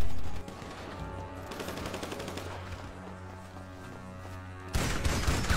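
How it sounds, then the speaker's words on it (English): Shotgun fire in GTA 5 Online, a dense, continuous barrage of game gunfire with a sharper, louder burst near the end. No voices. "this shotgun right here is fucking OP"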